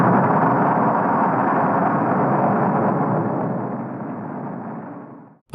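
The RDS-37, a Soviet two-stage thermonuclear bomb tested at 1.6 megatons, produces a sustained, broad roaring rumble that stays loud and dense, then fades and cuts off near the end.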